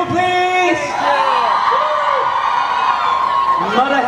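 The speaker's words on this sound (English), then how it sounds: "Can we cheer for Sanju, please?" A crowd at a meet and greet with a host and kids cheers and whoops for Sanju, a loud, steady swell of many voices with rising shouts that lasts the whole stretch.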